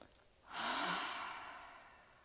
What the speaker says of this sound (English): sometimes he just has me take a really deep breath